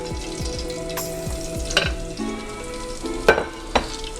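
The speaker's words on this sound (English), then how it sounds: "I'll fry up the rest of these lobster pieces." Lobster pieces fry in a pan with a loud, steady sizzle up close, broken by a few sharp clinks and scrapes as they are moved, and no voices.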